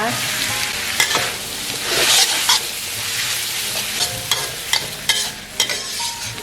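Pork and squid sizzle loudly in a hot wok while a utensil scrapes and tosses them in steady bursts, with no talking.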